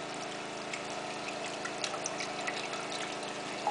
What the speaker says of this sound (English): We'll pour in the beef broth.